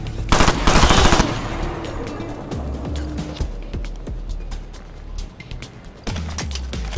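Automatic rifle fire rattles through a Ghost Recon Future Soldier firefight, a loud sustained burst up front, then scattered shots and impacts, with another heavy burst near the end.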